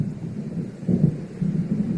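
Low rumbling thunder from an approaching storm in the video game Alan Wake Remastered, rolling in a few soft swells over a faint wash of rain, moderately distant and alone with no voices.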